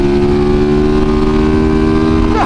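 Motorcycle or three-wheeled trike engine droning loud and close in a steady tone, with a brief pitch shift near the end as it pulls away.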